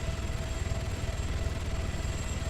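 Continuous helicopter engine and rotor hum in the Altis Life game, a steady close drone with no talking.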